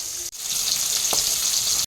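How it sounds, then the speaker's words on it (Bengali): Fish frying in oil gives a steady, close sizzling hiss that fills the moment without pause, with a brief stir or clink near the middle and no voices. "এই দেখো মাছ ভাজা বসিয়ে দিয়েছি"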